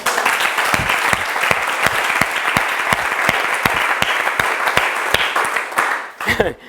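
A congregation at a Bible institute class bursts into loud, sustained applause, with dense clapping and a few sharp individual claps standing out, which fades as a voice begins speaking near the end.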